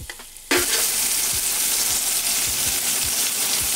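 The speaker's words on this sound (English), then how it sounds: "You wanna cook your shrimp till they hit 145 degrees internal temperature." Shrimp sizzle loudly in a hot pan with smoked sausage, the frying starting abruptly after a quiet half-second and then holding steady, with faint stirring or scraping knocks under the hiss.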